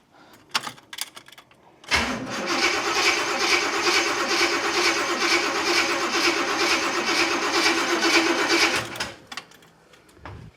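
A 1962 Corvette engine cranks continuously for about seven seconds, a steady, loud mechanical churn that never catches, with some handling noises before and after.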